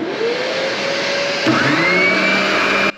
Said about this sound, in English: I'm first rough shaping the headstock on the spindle sander, just getting myself close to the line.